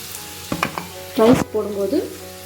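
Cooked rice is stirred into a sizzling carrot mixture for carrot rice, with a few clattering strokes followed by squeaky, tonal scraping of a spoon against the pan over a low fry.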